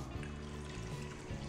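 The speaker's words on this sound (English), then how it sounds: "I'll put in all the water" Water pouring into a microwave-safe bowl of washed samo seeds, a soft, faint trickle and splash lasting the whole brief moment.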